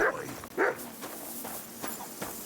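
A dog in Kingdom Come: Deliverance II gives two short barks close by, then quieter scuffing and faint background sounds follow.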